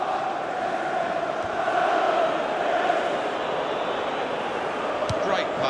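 A stadium crowd in the FIFA 16 football game cheers steadily at a Leicester City match, a broad, even roar rising slightly midway, with a commentator talking over it.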